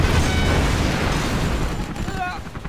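Rumbling rocket bomb explosions from Command & Conquer Generals roll on as a dense, sustained barrage of booms, loud and close, with a voice line and game effects layered on top.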